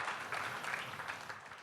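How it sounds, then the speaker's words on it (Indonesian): Congregation applause for Jesus during a church worship service, a steady wash of many hands clapping together, moderately loud and continuous with no gaps. "Mari tepuk tangannya yang meriah bagi Tuhan Yesus"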